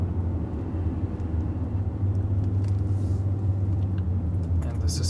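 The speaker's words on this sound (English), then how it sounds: "So this particular version is a 400d 6-cylinder diesel engine." A 2020 Mercedes GLS 400d with a 6-cylinder diesel engine cruises with Airmatic suspension in comfort mode, giving a steady low cabin drone and road rumble beneath a person talking throughout.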